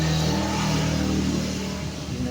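A motorcycle's engine running and revving, close up, a steady mid-pitched drone with slight swells, no talk.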